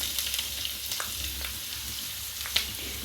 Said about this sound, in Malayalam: വെളിച്ചെണ്ണ ചൂടായ ശേഷം നമുക്കതിലേക്ക് സവാള, പച്ചമുളക്, വേപ്പില ഇത്രയും അങ്ങോട്ട് ഇടാം